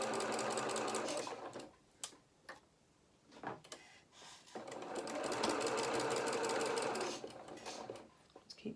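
Close-up home sewing machine stitching the thick back of a Luna Lapin doll's winter skating coat runs in several bursts with rapid ticking needle strokes, pausing between runs, with faint handling noises in the gaps.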